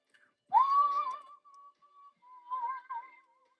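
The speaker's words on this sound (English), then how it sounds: "you're just hearing some random ass whistle coming out" A person whistles close by in quiet, a short rising note held with slight warble, then a softer wavering tune that trails off.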